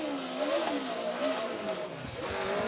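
The Manchester Formula Student race car drives past with an odd-sounding engine note, rising and falling as it revs. The engine sounds fairly distant, with faint commentary underneath.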